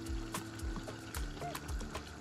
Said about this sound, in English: because I add the water in it